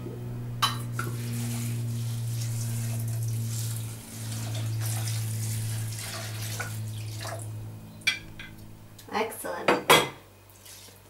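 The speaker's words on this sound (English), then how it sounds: "Okay, now we're going to add water." Water runs from a kitchen tap onto oats set to soak for gluten-free sprouted oat bread, a steady stream with a faint hum underneath, followed by a few sharp clinks of dishes and utensils near the end.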